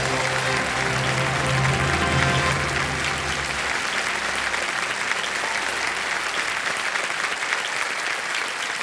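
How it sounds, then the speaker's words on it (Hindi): A studio audience at the KBC game show breaks into sustained, dense applause that stays loud and steady for several seconds, with a faint voice briefly audible early on. "अब बजाइए ताली"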